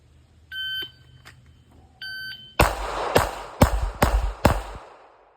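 Shot timer par beeps at a pistol drill with a Glock 42, two sharp electronic tones spaced about a second apart, followed by five loud close gunshots in quick succession.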